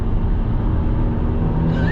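A 2022 Subaru WRX with all-wheel drive accelerates hard under steady, loud engine roar from inside the car. Near the end a rising tone marks the shift into third gear.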